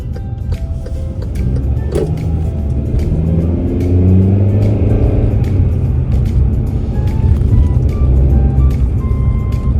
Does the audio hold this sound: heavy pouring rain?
no